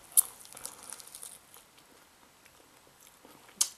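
Crunchy chewing on hot and spicy chicken wings with a garlic bread side, heard as a few crisp bites close to the mic, sharpest near the start and the end, with soft mouth noise in between and no talking.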